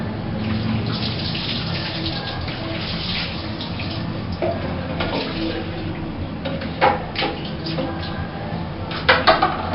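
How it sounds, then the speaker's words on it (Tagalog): Clean water pours steadily into a toilet bowl for a rinse, a continuous close rushing splash with a few louder sloshes near the end and no talking. "rinse the toilet bowl with clean water"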